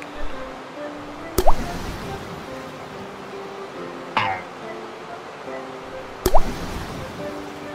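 Cartoon splash and drip effects as a rabbit jumps into a river, three sharp watery plops spaced a couple of seconds apart, with a narrating voice running underneath.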